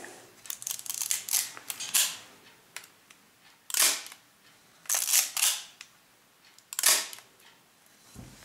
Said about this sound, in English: metal shutter